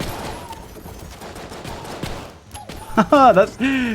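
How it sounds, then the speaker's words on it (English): Shots being redirected by a gun in the video game Enter the Gungeon, a quick burst of bright, warbling electronic zaps rising near the end after a stretch of busy game noise and gunfire. "I love that noise it makes when it, like, redirects the shots."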